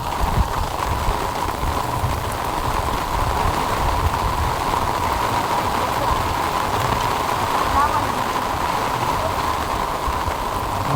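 Heavy rain pours down steadily, a dense constant hiss close by with no breaks across the whole stretch.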